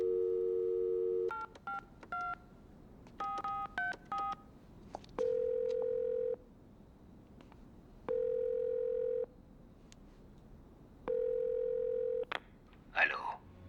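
Telephone in a horror film being dialed: quick clusters of touch-tone beeps, then a ringback tone sounding three times in long even pulses, ending with a faint rustle.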